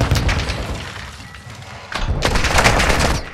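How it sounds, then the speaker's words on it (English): A stun grenade detonates in a tactical shooter game, one loud booming burst followed by a second heavy blast with crackling, noisy ringing. "Throwing a stun grenade."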